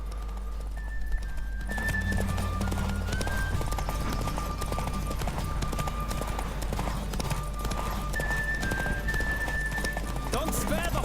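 Rhythmic hoofbeats of a galloping horse with a whinny during a horse race in The Witcher 3: Wild Hunt, set against game music and effects, steady and fairly loud.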